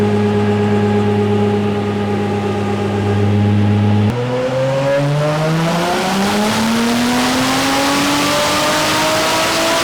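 Nissan S13 with a 1.5JZ engine revving hard on a dyno, a loud steady engine note that briefly cuts out then climbs smoothly in pitch as it accelerates, alone without talk.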